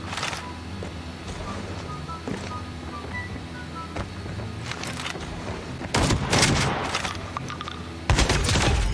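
Shotgun blasts in a video game shooter, a few sharp booming shots close together in the last seconds over steady game background sound.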